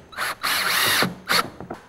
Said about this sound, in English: I'm going to screw it in place with these screws